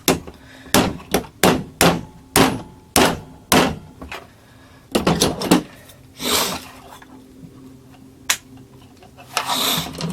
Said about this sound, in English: Before I do that, I'm going to hammer this in